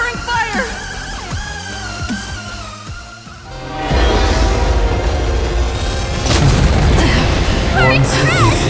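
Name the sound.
covering fire explosions in the video game Honkai Star Rail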